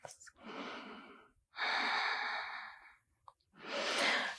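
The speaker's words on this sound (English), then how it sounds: "Deep breaths." Slow, deep breaths during a yoga session, three long audible exhales or sighs close by, each separated by a brief quiet gap.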